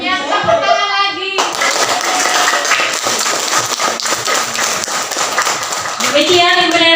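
Hands clap in a quick, close burst of repeated claps lasting several seconds, with a voice speaking before and after.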